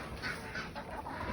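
Chickens on a small family farm cluck softly while pecking at table scraps from an event, a brief, faint and steady murmur with no talking.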